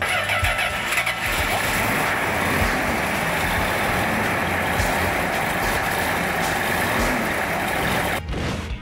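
A Plymouth Hemi Cuda engine cranks and catches, then runs with a loud, steady rumble close by, holding at idle before the sound cuts off abruptly near the end.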